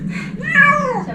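A former stray cat eating a Churu treat gives one clear, close, drawn-out meow that rises and falls, with no talk over it.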